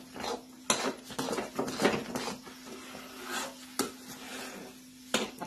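A spoon scrapes and stirs a thickening mixture in a pan, giving repeated rasping strokes with occasional sharp knocks against the metal over a faint steady hum, close and fairly quiet.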